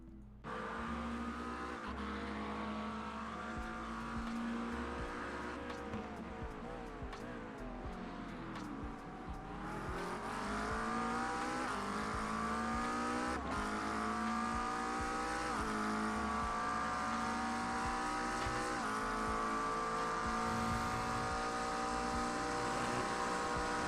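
GT3 race car screaming through a lap of Spa in iRacing, a loud continuous engine roar climbing and dropping through gear changes, with brief tire scrub, heard alone for the whole stretch.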